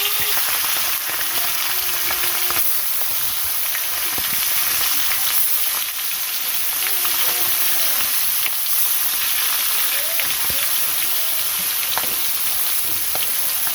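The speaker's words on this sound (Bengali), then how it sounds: "মাছটা কড়া ভাজলাম" Marinated fish fries crisp in a pan with a loud, continuous oily sizzle and crackle, close by and unbroken for the whole stretch, with faint background sounds underneath.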